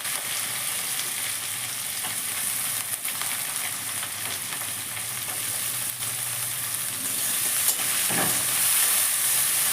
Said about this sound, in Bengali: এর মধ্যে দেব আমি কিছু পেঁয়াজ আর লঙ্কা কুচি।